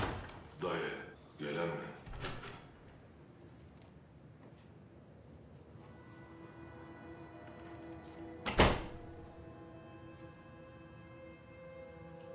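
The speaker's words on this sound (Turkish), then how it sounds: "Kapa kapıyı, kapa." A door being closed: a single sharp, loud slam partway through, after voices speaking nearby and a stretch of quiet room ambience with a low hum.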